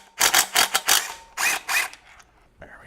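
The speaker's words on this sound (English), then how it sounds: "to remove these two backing plate bolts, we're going to use 7/16." A hand ratchet with a 7/16 socket works the backing plate bolts on a motorbike build, giving several sharp clicking bursts in quick clusters, close and loud, then a brief pause and a softer final burst.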